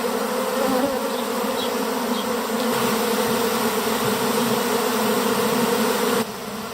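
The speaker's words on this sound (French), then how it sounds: "les abeilles sont restées à l'extérieur de la ruche" A very volatile honeybee swarm buzzes outside its hive, a dense continuous hum of many wings, loud and close, holding steady throughout with a slight drop at the very end.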